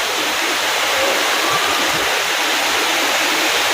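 Heavy rain pouring down in a steady, dense, loud hiss that stays even throughout, with no voices.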